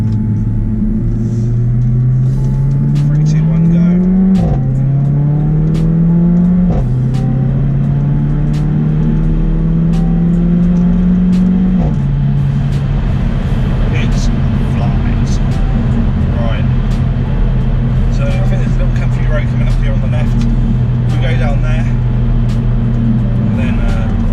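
A 360 bhp Mercedes A45 AMG with the standard performance exhaust downshifts on approach to a roundabout, its engine note stepping up sharply with each shift before settling into a steady drone, heard from inside the car.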